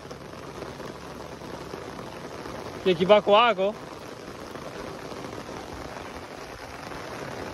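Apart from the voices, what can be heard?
rain in a tea garden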